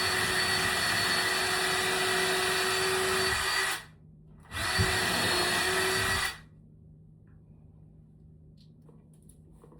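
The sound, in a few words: power drill drilling into wall stud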